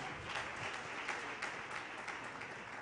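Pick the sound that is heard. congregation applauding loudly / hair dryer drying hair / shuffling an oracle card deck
congregation applauding loudly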